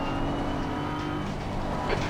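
A GT3 race car pitting at Suzuka in Assetto Corsa Competizione holds a steady, droning engine hum at limited pit-lane speed, constant and fairly close throughout.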